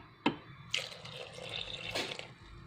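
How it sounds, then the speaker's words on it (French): Water is poured into dough for durum wheat bread, with a few soft splashes and a gentle trickle, quiet and close. "Donc on ajoute l'eau"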